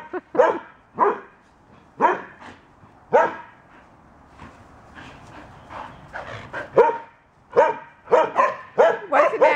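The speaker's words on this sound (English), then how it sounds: "And what are you barking about?" Dogs Sophie and Belle barking close by in repeated sharp barks and yips, irregular bursts throughout, with a few softer whimpering sounds between.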